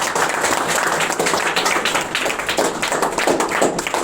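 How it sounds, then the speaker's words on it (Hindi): A crowd claps loudly and steadily for a top-scoring high school boy at Shaheed KP Inter College, the dense applause filling the whole stretch without a break. "जोरदार तालियां इस बच्चे के लिए"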